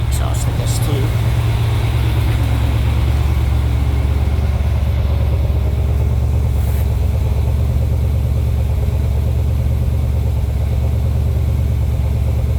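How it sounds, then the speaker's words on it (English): A Porsche 951 fitted with an LS V8 idles steadily after a cold start while warming up and running rich, a low continuous engine rumble close by with a brief higher sputter near the start. "it's going to run a little rich right now while it's warming up."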